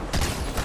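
A brief, dense crackle of overlapping gunfire in the Fortnite video game, loud and close throughout the short moment.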